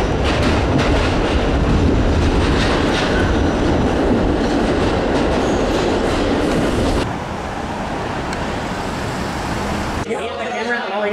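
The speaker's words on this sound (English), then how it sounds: "We are taking the subway." A subway train rumbles and clatters along the tracks, loud and continuous, with a shift in tone as it slows near the end.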